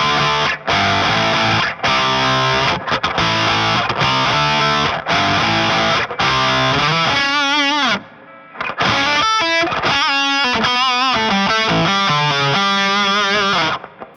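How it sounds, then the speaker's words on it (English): Electric guitar played through an Afro-Fuzz pedal model in the Two Notes Genome, giving a loud, saturated fuzz tone with chugging chords, a brief pause, then sustained wavering lead notes, with no talking. "here's a couple of clips of the Afro-Fuzz"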